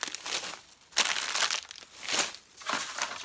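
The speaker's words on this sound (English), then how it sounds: "Sorry for the crinkling." Plastic packaging crinkles loudly as it is handled close to the microphone, in four or five bursts of rustling and crackling separated by brief quieter gaps.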